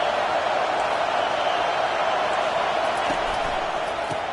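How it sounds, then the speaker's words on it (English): Stadium crowd noise on third and long in a football video game, a steady loud roar of a large crowd that holds constant with faint thumps beneath. "Here comes the crowd trying to make it tough on third and long"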